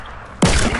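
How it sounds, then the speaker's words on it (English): A sudden loud burst of gunfire, a sharp onset followed by a sustained noisy blast lasting about half a second. "Oh, I hear gunshots."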